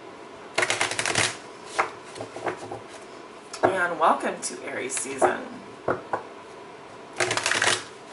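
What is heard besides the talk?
tarot cards being shuffled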